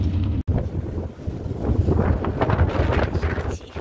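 Strong seaside wind near Bournemouth Pier roars against the microphone in a dense, steady rumble with gusty surges and one brief dropout, no talking.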